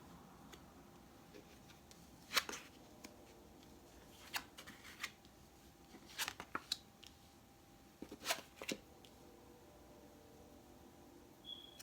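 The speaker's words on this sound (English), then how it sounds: "Let's go ahead and flip your cards and see where we're at." Quiet, close rustles and crisp snaps of tarot and oracle cards being flipped and laid down, arriving in irregular bursts with soft pauses between them.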